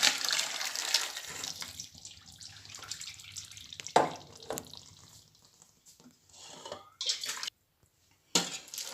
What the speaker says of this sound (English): So I'm just straining our noodles